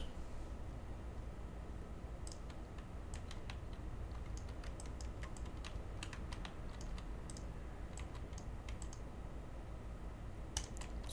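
Computer keyboard typing in the Far Cry 5 map editor search, quiet scattered keystrokes in short irregular clusters over a steady background hiss.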